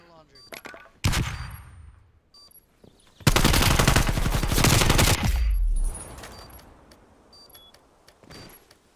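Bursts of automatic gunfire in a 4v4 Standoff shooter match, a short burst near the one-second mark followed by a long, loud sustained volley for about three seconds, then quieter scattered shots.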